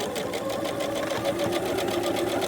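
Sewing machine stitching a fabric mask close to the edge, a steady rapid mechanical whirr and needle clatter running continuously throughout at close range.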